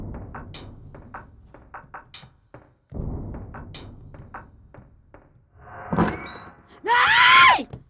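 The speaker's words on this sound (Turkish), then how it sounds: "Niye bağırıyorsun?" Someone shouts out in sudden surprise at night, a loud, strained yell that follows a string of soft knocks and a thump in an indoor Turkish sitcom scene.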